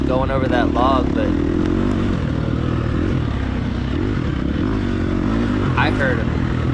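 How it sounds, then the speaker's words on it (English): Dirt bike engine revving in the TORCS racing game during an off-road hare scramble race, a loud continuous drone that rises and falls under steady speech from start to finish. "I heard an engine rev"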